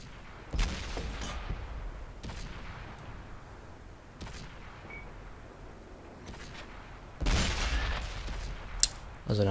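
Heavy tank cannon shots in a tank video game boom out as loud, separate blasts spaced a few seconds apart, each with a rumbling tail, the heaviest near the end.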